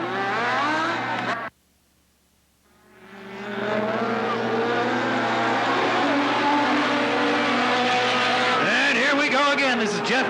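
Race cars battle for the lead at Cottage Grove Speedway in 1991, engines roaring loud and continuous after a brief drop, with rising and falling whines as cars pass and a track announcer talking over them.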